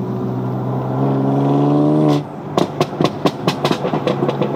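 A salvage BMW M4 accelerates hard with a rising exhaust roar through an open window, then cuts off into a string of sharp pops and crackles on the overrun.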